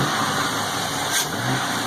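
A close, steady LSX V8 engine idle with an aftermarket universal cold air intake, a deep rumble and a faint intake hiss, briefly rising slightly midway.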